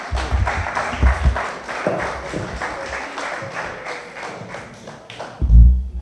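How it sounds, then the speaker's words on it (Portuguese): Audience applause for a professor introduced at an evening talk: a burst of clapping with thumps, moderately loud in a hall, fading before a final heavier thud. "Um aplauso para o professor Capela Miguel."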